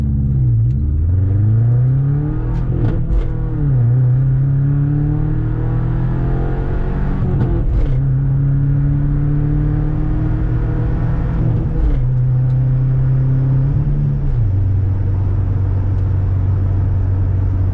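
A Subaru Forester with its muffler removed idles with a loud, rough, throaty drone and is blipped several times, each rev sweeping up and settling back, heard close with no talk.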